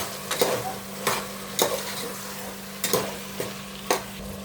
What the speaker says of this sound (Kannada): ಇದುವೇ ಆಯಿಲಲ್ಲಿ ಸ್ವಲ್ಪ ಫ್ರೈ ಆಗಲಿ